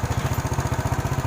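A motorcycle engine idles close by during repair work, its rapid, even pulsing thump loud and steady for a short stretch with no voices.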